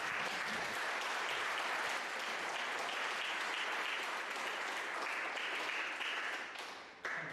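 Audience gives a round of applause for David, an animal mutilation researcher introduced at a talk, with sustained crowd clapping filling the room and fading toward the end.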